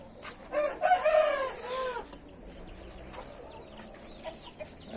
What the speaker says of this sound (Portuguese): Tem bastante frango lá fora.